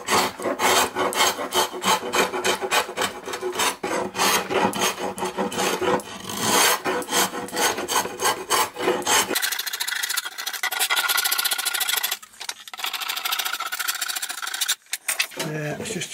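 A scraper rasps stain off a hornbeam stick bow in close, rhythmic strokes, the scraping continuing steadily for most of the clip before thinning into lighter, scattered passes.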